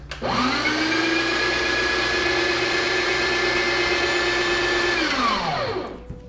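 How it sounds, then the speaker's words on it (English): The burr grinder of a Sage Barista Express coffee machine spins up with a loud, steady whirring whine. It holds about five seconds, then winds down and stops. The motor runs alone and close, with no voices. "what we're going to do is run the grinder to get any excess beans out right off the bat"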